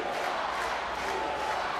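Rugby crowd in Treviso at an Under-20 Six Nations match between Italy and Wales, a steady, dense roar of voices cheering and shouting throughout, fairly close and sustained without a break.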